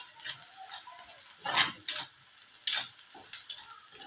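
Onion frying in a pan until golden, a soft intermittent sizzle and crackle with faint spattering pops, quiet and close, no talking.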